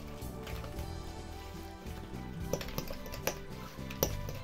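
A fork whisks an egg in a bowl for an Armenian walnut sweet, giving a run of soft scraping strokes punctuated by a few sharper clinks against the bowl's side.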